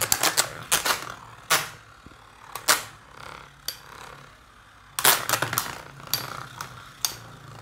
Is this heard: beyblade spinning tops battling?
yes